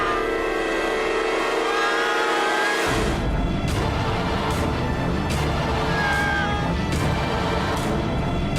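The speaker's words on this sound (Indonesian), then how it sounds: "Mobil siapa tuh? Pasti mobilnya Reza nih." A car engine revs hard and steadily during a chase, loud and close, with a roaring drone that runs continuously for several seconds.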